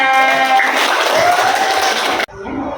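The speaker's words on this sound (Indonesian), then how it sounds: "Tepuk tangan buat Nadira" Applause from students in a classroom, a steady burst of clapping that cuts off abruptly near the end, with a voice briefly heard.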